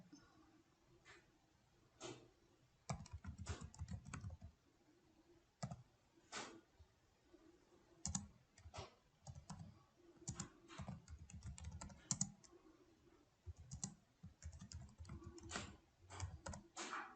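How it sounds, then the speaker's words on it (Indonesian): Keys clatter on a computer keyboard while text is typed into Word 2019, quiet and close, in irregular bursts of quick taps broken by short pauses, with no voices. "kita akan mengetik teks yang ada di bawahnya"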